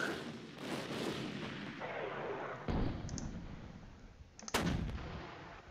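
Artillery fire in the strategy war game Panzer Campaigns Stalingrad '42, with several heavy booming blasts and long rumbling tails that overlap and then fade, followed by a sharp final shot.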